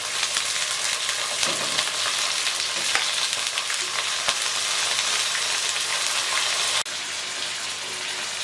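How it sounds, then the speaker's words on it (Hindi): Chicken pieces go into a pan of onions frying to light brown, producing a loud, continuous close-up sizzle with occasional stirring and clatter, no voices. "अब हम इसमें चिकन निकाल के डाल देंगे।"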